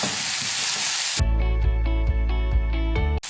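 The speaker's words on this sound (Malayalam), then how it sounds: "നമുക്കിനി ഇതിലേക്ക് വേവിച്ച് വെച്ച ചേന കഷ്ണങ്ങൾ ചേർത്ത് കൊടുക്കാം ഇനി നമുക്ക് നന്നായിട്ടൊന്ന് മിക്സ് ചെയ്തെടുക്കാം" Cooked elephant foot yam pieces are stir-fried in a pan for chena mezhukkupuratti, with a loud, close burst of frying hiss for just over a second before steady background music with a pulsing bass takes over.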